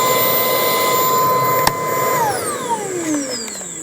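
A Milwaukee M18 Fuel compact cordless vacuum (model 0940-20) runs with a steady, loud high-pitched motor whine, then winds down partway through as the motor pitch falls away.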